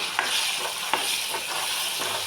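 Hot oil sizzles steadily in a pan while a utensil scrapes and stirs garlic chutney, with a few distinct clinks against the pan.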